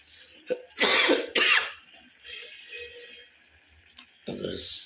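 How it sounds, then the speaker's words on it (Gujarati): A person coughs twice in quick, harsh bursts in a home kitchen where mung beans are being cooked, then coughs once more a few seconds later; quieter voices are heard between the coughs. "ઉધરસ"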